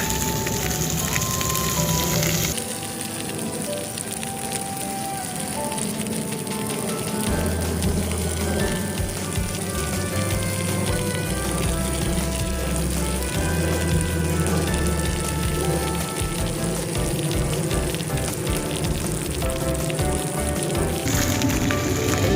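Steady rain patters and hisses on a surface without pause at a park in Schaumburg, USA, with a low droning hum and tonal background sounds underneath.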